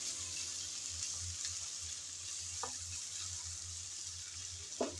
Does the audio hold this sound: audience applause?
no